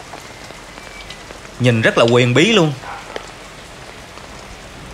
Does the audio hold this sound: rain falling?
yes